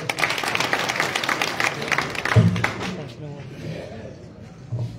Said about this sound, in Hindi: जोरदार तालियां बजाओ भाई